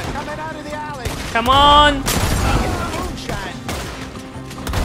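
Gunfire in Red Dead Redemption 2, a few sharp shots and bursts mixed with game noise and a loud blast near the middle, under excited talking.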